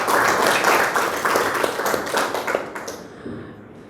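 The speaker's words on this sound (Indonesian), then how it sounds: "Tepuk tangan dulu untuk HMI." A lecture audience gives a short round of clapping for HMI, the Islamic student association; it is dense at first, then thins and fades out over a few seconds.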